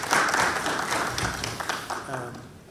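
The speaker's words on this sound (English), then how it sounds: "Can y'all give Jeffrey a round of applause?" An audience at a talk on farm cooperatives and drone careers claps for a speaker, a moderate burst of applause that tapers off, with some voices heard alongside.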